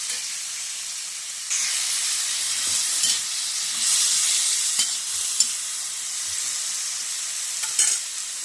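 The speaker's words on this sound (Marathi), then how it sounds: "दोन टमाटर घेतले आहे आपण त्याला सुद्धा छान मस्त फ्राय करून घेऊया" Tomatoes fry in a hot pan with a loud, close, continuous sizzling hiss, punctuated by soft stirring knocks and a few sharper spatters, and no one speaks.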